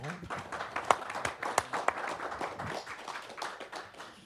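An audience gives warm applause to sign language interpreters at a conference on digital tools and disability, with a steady patter of hands clapping and a few sharper claps standing out over several seconds.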